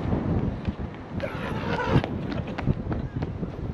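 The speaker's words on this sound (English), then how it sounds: "Oh yeah, really windy." Strong outdoor wind buffets the microphone in continuous rumbling gusts, with scattered thumps and movement noise mixed in, loud and close throughout.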